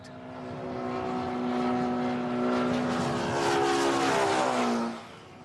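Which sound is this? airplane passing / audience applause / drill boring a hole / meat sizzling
airplane passing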